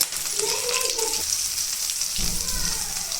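Asafoetida and green chillies sizzling in hot oil as a tempering for gram-flour rice, a continuous close crackling hiss with a brief muffled voice underneath.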